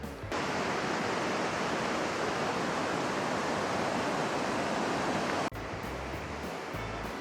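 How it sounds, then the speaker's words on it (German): Waterfalls in Canada rush with a loud, steady broadband roar, unbroken for several seconds before the sound abruptly drops to a slightly quieter, closer water noise. "Dort hinten so sind Wasserfälle."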